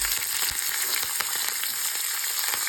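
Onions and curry leaves frying in hot oil for a tempering, a steady close sizzle with faint crackles and pops, no voices.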